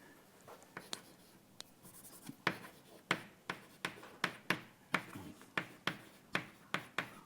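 Chalk taps and scrapes on a board as names are written during a math lecture, a series of sharp clicks and short strokes that speed into a steady rhythm, close and fairly quiet, with no talking.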